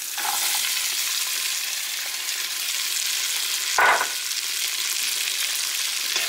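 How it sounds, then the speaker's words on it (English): Chopped onion and celery sweat over medium heat in a pan, giving a steady, even sizzle throughout, broken once by a brief louder scrape or stir near the middle; no voices. "cook the onion and the celery in right now"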